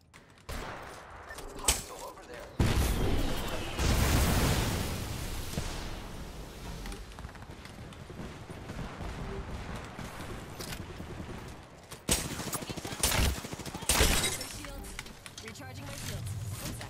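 Gunfire in Apex Legends: loud bursts of shots crack out from a few seconds in, with more volleys later, mixed with game effects and a player talking over the action.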